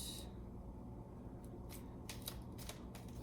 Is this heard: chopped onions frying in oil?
no